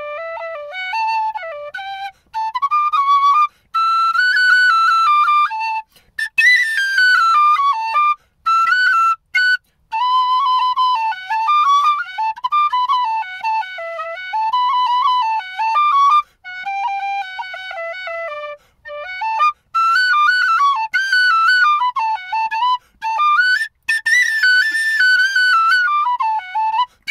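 A handmade Pablo tin whistle plays a lively melody with a soft, breathy tone, sounding close and alone, with rapid ornamented runs and brief pauses for breath.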